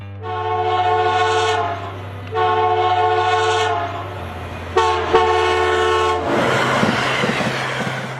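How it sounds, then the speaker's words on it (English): A loud train horn sounds two long blasts, then a short one, then a long one, the signal for approaching a grade crossing, ending in rumbling rail noise. "for approaching grade crossings, the signal is 2 long, 1 short, and a long blow of the horn"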